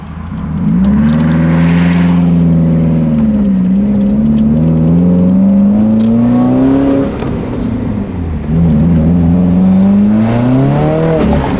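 A Subaru WRX engine revs up and down repeatedly, its pitch rising and falling in long sweeps, loud and close with no talking.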